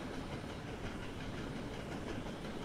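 A freight train engine in Train Simulator 2020 runs with a steady, dense rumble and rolling rail noise, constant and unbroken, with no talking.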